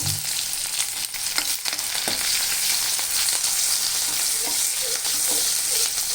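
Chopped onions fry in hot oil in a pan with a loud, continuous sizzle up close, broken early by a few clinks and scrapes of a stirring utensil, and no talking.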